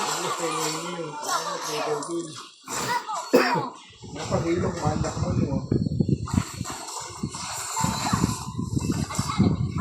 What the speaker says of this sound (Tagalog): Ubo kasi ako